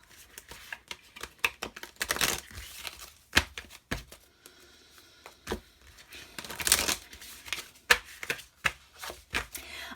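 Oracle cards being shuffled by hand, a close sequence of crisp riffling bursts and soft slaps in uneven rhythm, with quiet pauses between shuffles.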